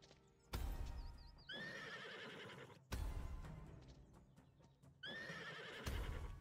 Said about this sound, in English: You've tamed a wild horse.